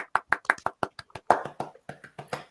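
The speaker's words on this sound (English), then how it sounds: "A big round of applause for sentences." A small group claps in a short, uneven round of applause, a dozen or so sharp close hand claps over two and a half seconds, with no voices.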